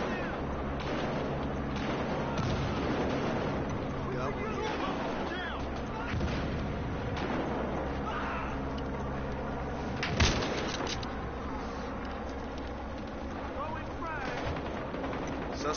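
Continuous in-game gunfire from Battlefield Hardline, a busy mix of shots and explosions running steadily throughout with a sharp louder blast midway, while players talk over it.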